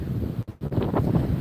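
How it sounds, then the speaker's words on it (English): Strong gusts buffet the microphone at Las Vegas International Airport, a steady roar of wind noise with a brief drop in the middle, close and loud, with no talking. "It is another very, very windy day here."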